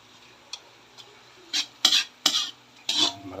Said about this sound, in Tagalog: Kailangan durugin po natin yung kamatis.